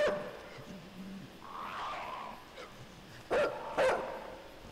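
A dog in the video game Inside lets out a few barks. A faint whimpering sound comes first, then two short, sharp barks land near the end against quiet ambience.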